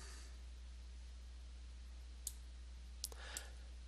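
A few soft, isolated computer mouse clicks, faint and close, spaced out against a steady low hum while someone draws in Photoshop and After Effects.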